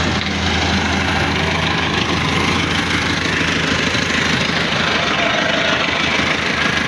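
Massey Ferguson 385 tractor with a fully loaded soil trolley stuck, its diesel engine idling loudly and steadily close by in a constant low throbbing rumble with no speech.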